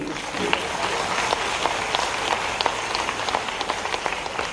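An audience claps steadily at a statue unveiling ceremony in Bhopal: dense, even applause from many hands, continuous and fairly close, with no voices over it.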